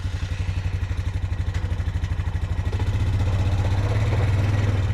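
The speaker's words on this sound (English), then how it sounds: "Let's start this ATV." ATV engine idling close by with a rapid, even low-pitched putter that thickens and grows slightly louder partway through, with no talking.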